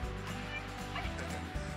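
A dog barks and yips repeatedly over a steady low rumble, fairly close, with short sharp bursts and a brief whine.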